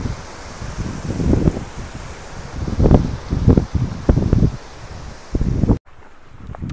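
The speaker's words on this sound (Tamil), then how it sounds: "நல்லா வரதா புயல் லெவலுக்கு காற்று பிச்சுக்கிட்டு அடிக்குது பாருங்க." Strong wind whipping across Agavi Nayinar dam in Tenkasi, loud rumbling gusts buffeting the microphone in repeated surges, then cutting off abruptly near the end.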